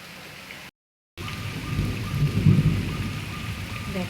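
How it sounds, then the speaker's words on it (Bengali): Steady morning rain falls over a garden with many trees, a dense continuous hiss broken by a brief dropout, while a low rumble of thunder swells near the middle and lingers beneath the downpour. "দেখো বৃষ্টি শুরু হয়েছে"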